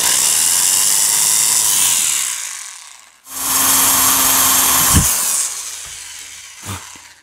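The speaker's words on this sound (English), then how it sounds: "So you just have to drill from both sides until you break through the little wall on both sides" A power drill whines steadily for a few seconds, stops briefly, then runs again with a grinding bite through a Smith & Wesson 586 revolver sight before fading into scattered clicks.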